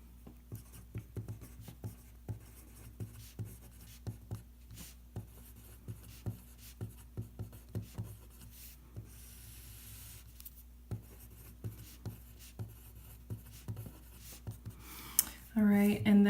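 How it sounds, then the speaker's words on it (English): A pen writes out a trigonometric sum identity. Light, evenly spaced strokes scratch in a steady rhythm throughout, quiet and near, with a brief louder rustle at the end. "So I'm going to go ahead and write that out."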